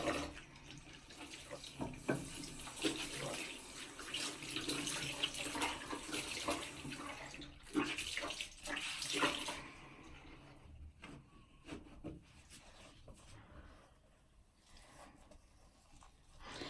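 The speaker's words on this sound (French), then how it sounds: "Et maintenant, donc, je vais me rincer." Water running at a bathroom sink while a face is rinsed, a steady splashing hiss for about ten seconds that then thins into scattered drips and splashes, close and moderately loud with no talking.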